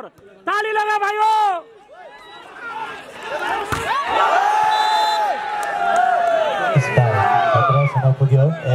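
Crowd at an outdoor volleyball final in Putalibazar, Nepal, cheering and whooping with loud chatter that builds and stays steady, broken by a brief dip; people talk over the noise throughout.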